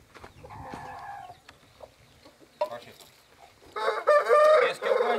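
Turkeys on a farm, three hens and one tom, give clucking and gobbling calls that swell into a loud burst of calls toward the end, with voices talking nearby.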